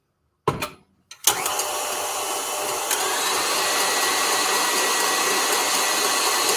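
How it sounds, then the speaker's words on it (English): A KitchenAid stand mixer whipping cream starts with a short burst, pauses briefly, then settles into a steady, loud, continuous motor whir that holds to the end, close by with no talking. "I'm now going to chuck on the KitchenAid. There'll be a bit of sound pollution, a bit of noise pollution. I'm just going to whip some cream."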